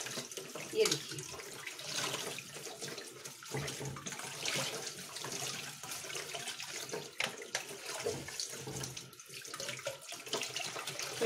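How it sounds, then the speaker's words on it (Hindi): Running water poured and splashing over an aquarium filter sponge being washed by hand, a steady close rush with irregular splashes and squelches throughout. "और फिर से हम इसके अंदर पानी डालेंगे"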